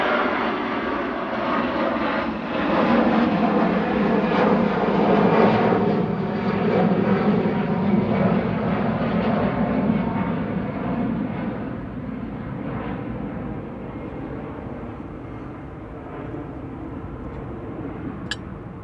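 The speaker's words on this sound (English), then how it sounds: "EasyJet to Munich now, flight 2197. This is GZWC and A320 Classic." An EasyJet Airbus A320 Classic passenger jet at Manchester Airport produces a loud, broad engine roar close by, holding steady and then gradually fading as the aircraft moves away.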